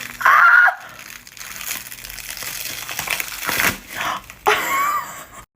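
Gelatin special-effects makeup is peeled off skin in a few sticky crackling tears and crinkles, close up, with quiet gaps between them.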